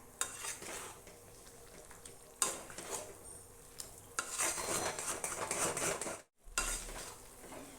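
A spoon stirs and scrapes Ashoka halwa around a pan with a steady, close, scraping and faintly sizzling sound, broken by a brief pause near the end, no voices.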